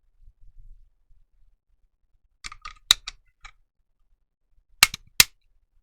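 A Mec-Gar eight-round magazine clicks into a Bersa Thunder pistol, a few sharp metallic clicks and snaps close by in otherwise near silence, with two louder snaps toward the end.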